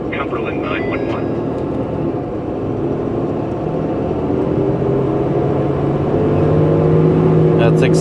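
A 2015 ambulance with a power-loss fault accelerates from a stop, its engine and drivetrain drone rising steadily in pitch and loudness from inside the cab, with brief voices over it.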